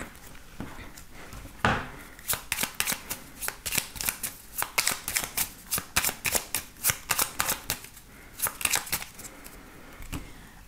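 A deck of 32 playing cards being shuffled, a long run of crisp riffling bursts in quick rhythm, close and fairly loud with no talking.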